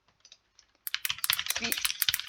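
A computer keyboard is typed on in a quick burst of close, crisp clicks and taps that starts after a near-silent opening with faint ticks.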